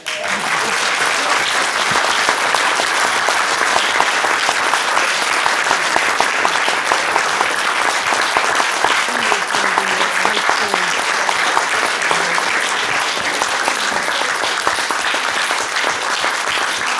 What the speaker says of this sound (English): When I'm doing this, you can give Shirley a clap.